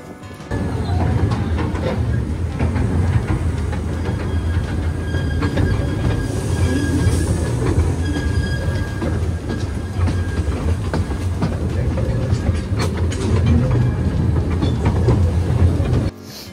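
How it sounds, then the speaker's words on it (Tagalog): The Bongbong tourist train at Taipingshan in Taiwan rumbles continuously from inside a carriage, with loud, steady wheel and track noise, faint squeals and clicks, and no clear talking. "Nakasakay na kami sa Bongbong train."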